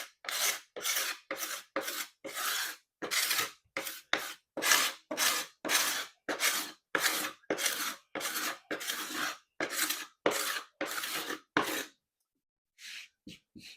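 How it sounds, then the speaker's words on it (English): Crucible card scraper drawn across a wood floor during a DIY refinishing job, about twenty rhythmic rasping strokes in steady succession, close and clear, ending with a short pause and a couple of lighter scrapes. "Crucible card scraper, now the new secret weapon for flooring work"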